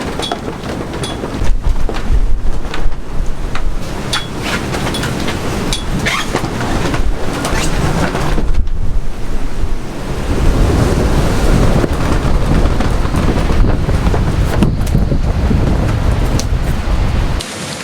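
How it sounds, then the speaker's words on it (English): Loud, roaring storm wind gusting near 60 buffets the microphone in continuous heavy gusts, with a brief dip partway through before the rush surges back. "It's gusting near 60."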